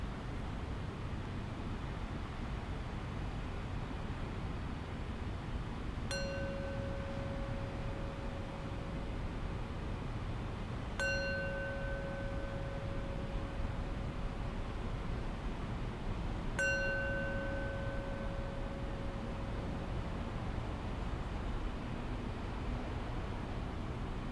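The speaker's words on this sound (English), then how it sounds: "I'll close practice with 3 rings of the bell" A meditation bell rung three times at the close of a guided practice, each clear ringing strike spaced several seconds apart and slowly fading, over a quiet, steady background hiss with no talking.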